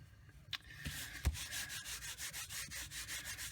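An embossing buddy pouch rubbed across card stock, a soft rhythmic brushing swish repeating steadily at close range after a couple of light taps.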